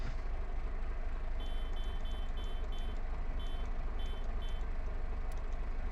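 Tractor reversing alarm in Farming Simulator 22, a series of evenly spaced high beeps in short bursts over a steady low engine rumble, clear and fairly close with no talk.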